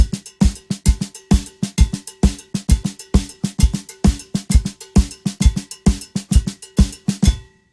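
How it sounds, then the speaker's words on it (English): Rapid flam accents struck between a cowbell and a snare drum in a steady, driving rhythm, each hit sharp and close, ending abruptly. "just play it between the cowbell and snare drum"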